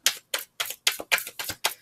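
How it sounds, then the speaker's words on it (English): A deck of tarot cards being shuffled: seven crisp, evenly spaced papery slaps in quick rhythm, close and fairly loud, with no talking. "I always go through a full shuffle of the deck"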